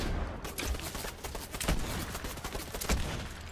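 Rapid gunfire rattles in a video game, a fusillade of overlapping shots with sharper bursts standing out, steady and fairly close throughout with no talking.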